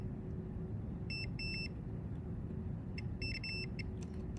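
A multimeter beeps in short tonal bursts during a continuity check on circuit board pins of an Xbox One X, faint over a steady low hum.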